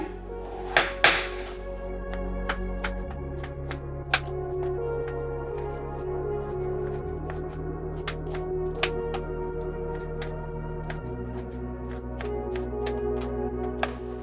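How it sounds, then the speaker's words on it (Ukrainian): Peeled potatoes being diced into small cubes on a cutting board for a mixed-meat solyanka soup, with a steady series of sharp knife thunks against the board over a low background hum. "Картоплю я почистила і теж поріжу її на невеликі кубики."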